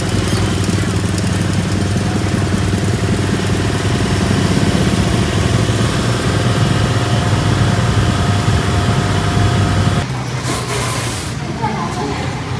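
Motorbikes and cars rumble through a roadside health checkpoint in Tuy Hoa, Phu Yen, where temperatures are checked. Loud, steady engine drone and idling fill the scene, dipping slightly near the end.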